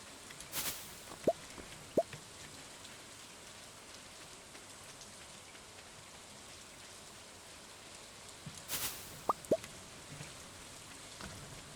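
Steady rain falls throughout in a video game, a soft continuous hiss with occasional brief plops and clicks, no voices present.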